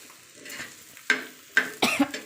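Egg bhurji stirring and frying on a griddle, with soft sizzle under three sharp scraping strokes of a spatula against the hot pan surface, close by.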